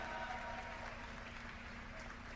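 Applause from an esports audience cheering the FaZe Call of Duty team at a podium ceremony, a steady faint wash of clapping heard from a distance.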